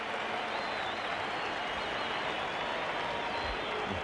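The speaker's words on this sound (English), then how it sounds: "The big crowd appreciating this fine knock." A big crowd at the floodlit MCG in Melbourne, during an Australia versus England cricket match, applauds a batsman's boundary, a dense, unbroken roar of clapping and cheering that holds steady throughout.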